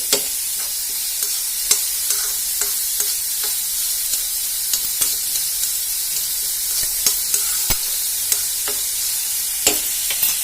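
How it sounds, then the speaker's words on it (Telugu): Onions softening in oil for an onion samosa filling, a continuous hissing sizzle under repeated light taps and scrapes of a stirring spoon against the pan. "ఆయిల్లో కొంచెం ఉల్లిపాయ అయితే కొంచెం మగ్గాలన్నమాట మరీ పూర్తిగా ఫ్రై కావాల్సిన అవసరం లేదు"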